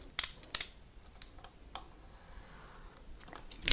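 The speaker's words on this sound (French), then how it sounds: "Je vais couper l'excédent de la photocopie." Scissors trim the excess paper from a photocopy with a handful of sharp, close snips spaced out over a quiet background, and no one speaks.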